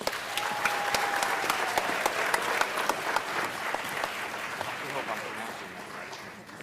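Sustained audience applause at a children's pageant (Czhilispiel 48 Little Mr. contest), dense steady clapping from a crowd that holds at an even level and fades slightly at the end.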